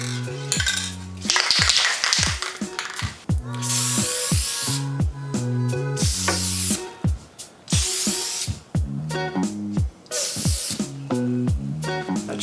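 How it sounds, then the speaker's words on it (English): Aerosol spraying of high gloss polyurethane over a repaired snapped guitar neck, repeated hissing bursts of spray under a loud rhythmic musical backing, close and steady. "I'm going to spray over the top of this with a little bit of high gloss polyurethane and hope for the best."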